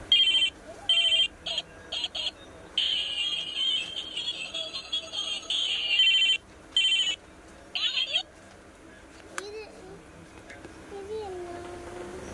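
A toy mobile phone plays a looping electronic ringtone melody in bursts, fairly clear, while children talk over it.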